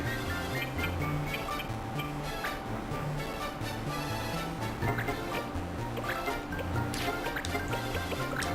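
Water dripping in the video game Final Fantasy Tactics Advance, steady drip and trickle sounds layered over continuous game music, with a voice murmuring faintly at points.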